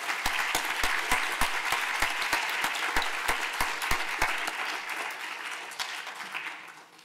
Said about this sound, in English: So if we can give them one more round of applause